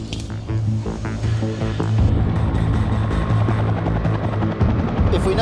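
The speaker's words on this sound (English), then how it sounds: "New South Wales Police helicopter Polair 1 appears over North Bondi." New South Wales Police helicopter Polair 1 throbs overhead above North Bondi beach, its rotor chop growing steadily louder and holding as a strong, rhythmic thudding with a whine above it.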